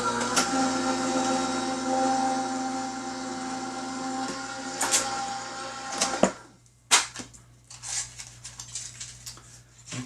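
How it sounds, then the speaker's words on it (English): An Anna Griffin Impress die-cutting machine runs with a steady motorized hum and whine for about six seconds. It then stops, and several sharp clicks and rustles of handled paper and dies follow nearby. "So let's go ahead and get this die cut."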